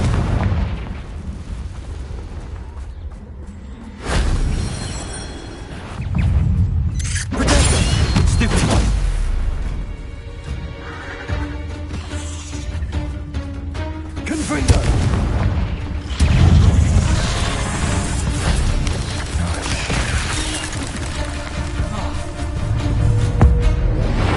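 Explosive blasts from the Confringo fire spell in the video game Hogwarts Legacy, a series of loud booming bursts with rumbling tails spread across the stretch, mixed with game sound effects and music.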